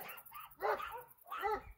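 Several dogs barking in short bursts, a few loud yaps and whimpering yips overlapping, fairly close by.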